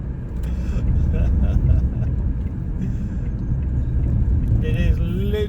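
A Ford Fiesta Zetec S being driven hard through a corner, with the gears changed down and the throttle opened. Its engine and road noise form a steady, loud, close rumble throughout, with a brief higher whine near the end.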